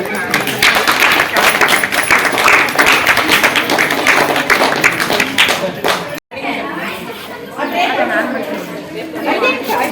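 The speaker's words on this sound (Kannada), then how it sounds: "ಈಗ ಚಪ್ಪಾಳೆ ಹಾಕ್ತಾರೆ. ಹಾಂ, ಹಾಕ್ರಿ. ಹಾಕ್ರಿ, ಚಪ್ಪಾಳೆ ತರ್ರಿ." Children clap their hands together in a dense, continuous patter of claps mixed with lively chatter, breaking off for a brief moment partway through before picking up again.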